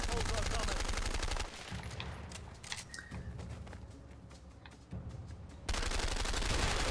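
Rapid bursts of gunfire from a powerful gun in the game A Way Out, loud close shots in a fast run, a pause with scattered single shots, then another dense volley at the end.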